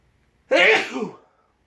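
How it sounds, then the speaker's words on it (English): A single sharp, close sneeze bursts out after a moment of quiet, then fades quickly. "I have to sneeze."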